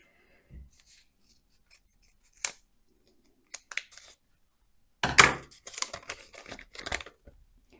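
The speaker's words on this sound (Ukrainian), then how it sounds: "ножиці візьму" Scissors snip a few times in a quiet room, with brief crinkling and handling noises between the cuts, close and fairly sharp.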